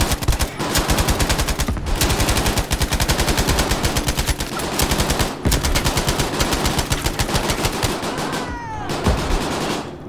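Rapid automatic gunfire in the World War II shooter Battlefield V, loud and sustained bursts of fast shots with brief pauses between volleys.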